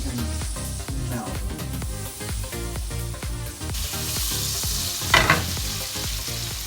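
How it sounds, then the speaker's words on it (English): Butter sizzling in a hot pan over low heat, a loud continuous crackle with rhythmic scraping strokes in the first half, then a brighter steady sizzle with a brief louder burst near the end. "Did you hear those sizzle?"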